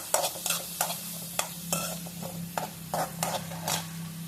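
Beetroot and onions are stirred in a hot pan, a spoon scraping in quick repeated strokes over a steady soft sizzle, close and alone without any talk.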